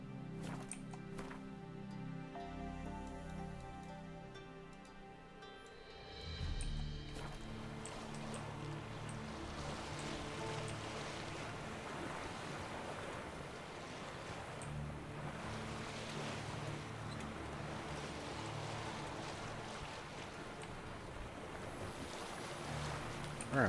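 Sailing a boat across open water in The Witcher 3, with a steady wash of waves and wind rushing around the hull, continuous and fairly loud with no talking.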